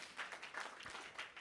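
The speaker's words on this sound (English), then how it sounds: "Round of applause for her." Applause from a school audience for a student presenter at a launch event, a steady, moderately faint patter of clapping hands with a few stronger bursts throughout.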